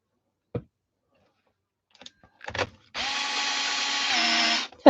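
A power drill backs screws out in a workshop, starting with a few scattered clicks and taps, then whirring steadily for almost two seconds at close range.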